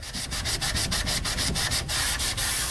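A magic eraser pad scrubs red scuffs off a car's surface in fast, steady back-and-forth strokes, a loud, close, rhythmic rubbing with about fifteen even passes and no talking.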